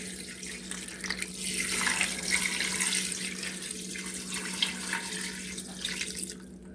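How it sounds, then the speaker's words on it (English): Liquid is poured steadily around the outer edge of an Instant Pot for spaghetti, giving a continuous close splashing, faucet-like rush that fades out near the end, with no voices. "You don't pour it right in the middle. Just go around the outside."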